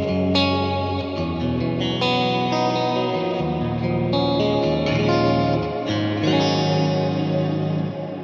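Sustained chords on electric guitar ring out through a lush plate reverb from a SKYLAR reverb pedal, notes blooming and tailing off in a smooth, dense wash, with no talking.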